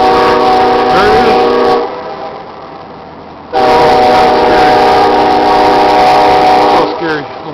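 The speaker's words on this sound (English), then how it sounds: "It's just a train. It's a train." A train horn sounds in Omaha, Nebraska in two long, loud, sustained blasts separated by a quieter pause, with people talking faintly beneath.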